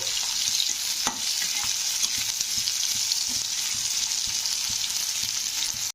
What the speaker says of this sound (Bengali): পেঁয়াজগুলোকে একটু হালকা ভেজে নিতে হবে